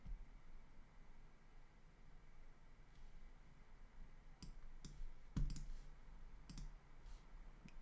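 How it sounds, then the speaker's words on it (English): Sharp computer mouse clicks land sporadically and irregularly over a quiet hiss, a few close together, some louder, all fairly faint and close-up. "Dude, I'm just clicking randomly."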